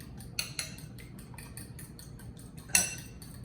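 Eggs beaten by hand with a utensil against a bowl, mixed with Parmesan cheese, onion powder, garlic powder and salt for an egg wash, giving quiet, irregular clinks and taps over a low background hum.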